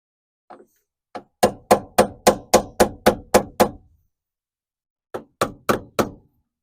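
Hammer blows on a lead clamp while working on a 1975 Dodge Dart, a run of sharp, evenly spaced metallic strikes, a pause, then three more close, loud hits.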